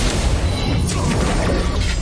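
A Confringo blasting-curse explosion in the Harry Potter Magic Awakened video game, heard as a dense, sustained roaring burst that fills the whole clip with low rumble and hiss.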